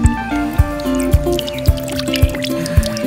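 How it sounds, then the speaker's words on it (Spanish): Coconut water glugs from an opened coconut into a small jug in a series of hollow gulping splashes about every half second, close and fairly loud, with a thin trickle between the glugs. "ahí vació casi todo el agua"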